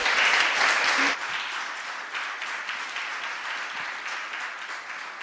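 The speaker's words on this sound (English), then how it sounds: "Round of applause for her." Audience applause at a design-futures talk event for a presenter named Alicia: a dense, steady wash of many hands clapping, loudest in the first second, then settling into a sustained, slightly softer ovation until the end.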